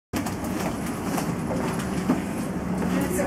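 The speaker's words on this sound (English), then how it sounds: "I love these trains." A London Underground District line train running, a steady loud rumble of wheels and carriage noise with faint clickety-clack, close and continuous throughout.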